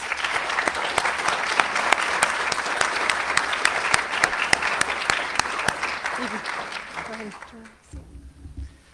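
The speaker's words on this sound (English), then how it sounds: "If we can give them a round of applause." Sustained audience applause at a nursing white coat ceremony, a dense steady clatter of many hands clapping in a hall, tapering off and fading out near the end.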